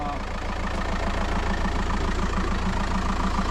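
A Land Rover 2.25 petrol engine cranks without firing, the starter churning in a steady, even rhythmic chug throughout, loud and close, with no catch or rev.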